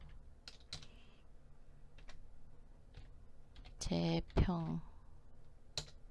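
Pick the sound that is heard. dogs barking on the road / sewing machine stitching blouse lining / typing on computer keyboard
typing on computer keyboard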